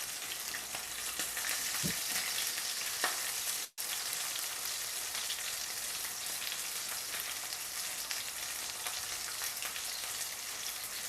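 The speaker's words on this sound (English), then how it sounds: "Sounds like you've got a hot pan there, Benson." Steady, dense sizzling of meat frying slowly in a hot pan during bush-ingredient cooking, a continuous crackle with a brief dropout partway through.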